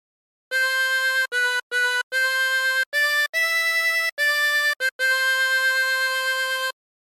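A harmonica plays a slow melodic phrase, clear sustained blown notes in short separated groups with brief breaths between, close and alone without any talk.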